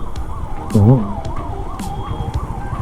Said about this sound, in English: Always give way for ambulance.